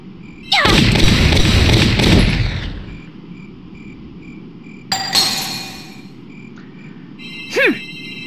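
Gunfire from a gun in the Valkyria Chronicles video game: one loud sustained blast lasting about two seconds, followed by a sharper, shorter report and a faint whistling tone.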